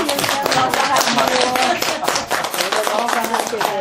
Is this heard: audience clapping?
yes